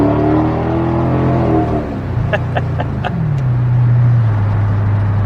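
A 1969 VW Beetle's air-cooled engine running while driving, loud and close, its drone shifting pitch as it revs and settles through a gear change, with a few light clicks and no talk.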